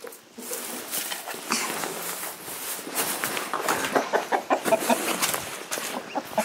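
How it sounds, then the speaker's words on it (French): Hens cluck loudly and repeatedly close by, with small chicks peeping among them in a busy, continuous farmyard chatter. "Les petits poussins."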